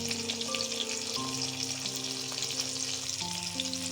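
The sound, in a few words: lightly frying mango pieces with dried chilli and turmeric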